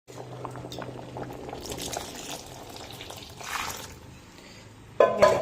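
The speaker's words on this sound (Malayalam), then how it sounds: "കഞ്ഞിക്ക് വെള്ളം ഒഴിച്ച് കൊടുത്തു" Water is poured into a pot of boiling rice porridge (kanji), a steady bubbling and liquid splash that grows briefly and ends with a sharper pouring burst, with no talk.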